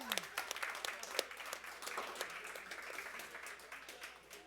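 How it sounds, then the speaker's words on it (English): A crowd at a Teamfight Tactics esports finals breaks into brief applause, clapping and cheering together at moderate volume before it fades out. "let's give them a round of applause"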